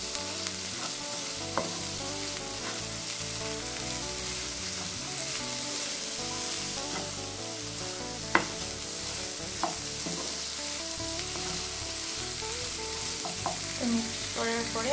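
Chicken with salt and turmeric is stirred in a hot pan, with a steady close sizzle under repeated scraping and clinking of the spoon against the pan.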